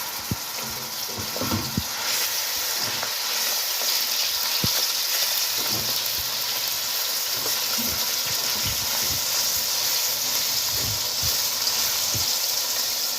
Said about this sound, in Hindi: अब मैं इसमें डालूँगी कीमा।